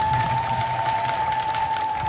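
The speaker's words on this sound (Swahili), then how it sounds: "Makofi kwa Mama Bikira Maria." A Catholic congregation at a catechists' pilgrimage gathering claps together in a dense, steady burst of applause lasting throughout, with a constant electronic hum running underneath.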